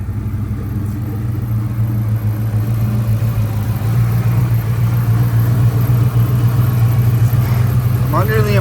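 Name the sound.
Ford Mustang Mach 1 V8 engine idling while warming up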